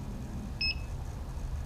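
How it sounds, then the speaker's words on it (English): A single short electronic beep from an FPV drone flight controller on disarming, high-pitched and clean, sounding once over a low background hum. "One beep."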